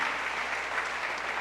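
A church congregation applauds in a steady, dense wash of clapping that fills the whole moment, moderately loud and even, with no break or single voice standing out.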